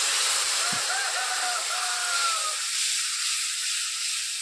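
A splash of water hits turmeric and chili powder in a hot pan for a pangas fish curry, giving a loud, steady steam-like hiss and sizzle that quiets after about two and a half seconds.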